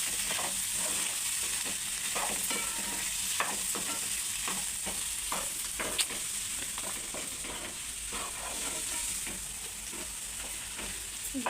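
Curry in a pan with coriander powder being stirred in, a constant soft sizzle under repeated scraping strokes of a spoon at an even pace, no voices.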